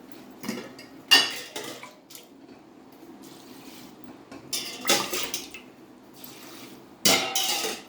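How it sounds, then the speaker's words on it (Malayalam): Water poured into a pan for cooking noodles, with clattering pot and utensil knocks in bursts between quieter stretches of trickling, close by and no talking. "പിന്നെ ഇതിന് ആവശ്യത്തിനുള്ള വെള്ളം ഒഴിക്കാം"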